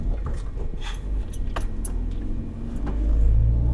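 A car engine strains in first gear with a low, labouring rumble that grows louder and deeper toward the end, with faint rattles and no speech.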